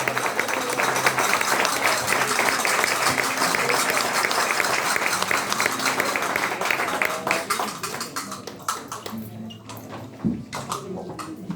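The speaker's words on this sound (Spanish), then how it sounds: "fuerte aplauso para las chicas de Melilla Guapa" An audience applauds for the girls of Melilla Guapa at a Sant Jordi gathering in the Casa de Melilla in Barcelona, dense sustained clapping that thins and breaks into scattered claps toward the end.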